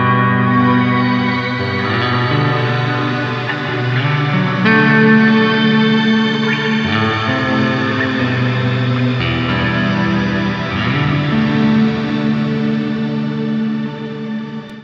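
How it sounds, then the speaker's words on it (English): A guitar runs through a Matthews Effects Traveler reverb pedal with its feedback control at maximum, sustained chords blooming into long, dense, shimmering reverb tails that overlap and wash together. "I want the reverb to be longer, so I want to max out the feedback control."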